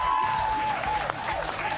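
Studio audience of a French television talk show applauds steadily, a dense wash of clapping with a thin sustained musical tone running through it.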